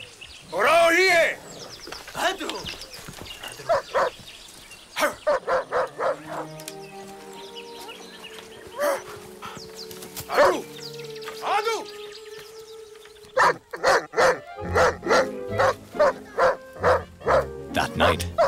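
Village dog barks in repeated bursts, alternating rapid runs of yaps with pauses and occasional whimpers, fairly close and loud, with bird calls and other sounds in between.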